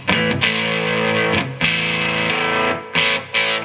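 Heavily distorted electric guitar chords from a 2018 Gibson Les Paul Goldtop on the rhythm pickup, high gain through a Marshall amp with a 12-inch Celestion speaker, strummed in rhythmic bursts, loud and close, with short pauses between chugging strums.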